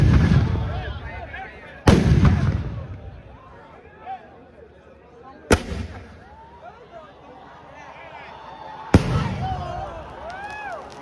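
Item bombs, large firecrackers set off for Kali Puja, explode one after another in four sharp, loud bangs spaced a few seconds apart, each followed by a dying echo, while people chatter and call out in between.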